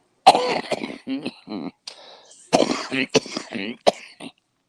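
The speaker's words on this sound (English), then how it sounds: "Just a cough." A few sharp coughs and throat-clearing bursts break up ongoing talk, close to the mic, with short pauses between them.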